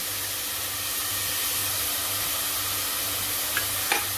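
Tempering spices (mustard seeds, cumin, asafoetida and curry leaves) sizzle in hot oil with onion for a masala dal, giving a steady, close frying hiss with a couple of faint clinks near the end.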